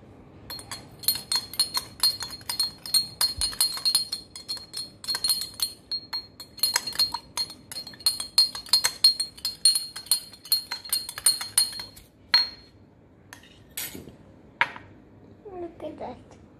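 Liquids are stirred in a glass for a rainbow rain density experiment, with a steady stream of bright, rapid clinks of a utensil against glass, close and continuous, and a voice faintly near the end.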